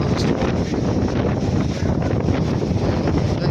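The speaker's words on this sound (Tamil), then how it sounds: "இது ஃபுல்லாக அந்த காற்று பயங்கரமாக அடிக்குது" Strong gusts roar across a misty hilltop viewpoint at Nelliyampathy, buffeting the microphone with a continuous loud, rough blowing and no voices.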